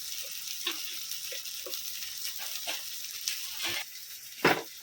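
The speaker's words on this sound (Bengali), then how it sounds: "এখন ভালো করে একটু নাড়াচাড়া করে নেব" Onions with salt sizzling softly in a pan while being stirred, with a quiet frying hiss broken by irregular scraping taps of the spatula.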